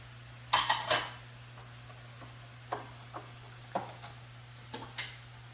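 Sun-dried tomatoes and pepperoni drop into a pan with a cluster of sharp clatters, then a few scattered light knocks and taps of a utensil against the pan, no talking.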